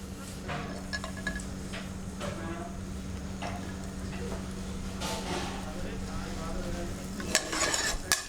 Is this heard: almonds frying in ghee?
yes